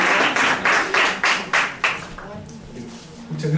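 An audience claps for the presenters at the close of a panel discussion on education and diversity, a burst of loud applause that fades after a couple of seconds into quieter scattered claps and murmuring.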